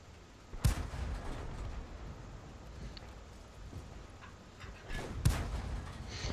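An SU-76M tank destroyer's gun fires in a tank combat video game. Two sharp, booming shots stand out, several seconds apart, over a quiet rumbling background.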